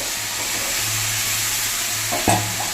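Eggs and potatoes sauté in spice paste with a constant, close sizzle and hiss, broken near the end by a single spoon clink against the pan.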